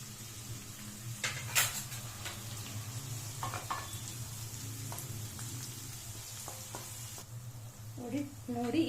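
Two medium onions fry on a low flame for egg fried rice, giving a steady, soft sizzle with occasional scrapes and taps of a spoon stirring in the pan.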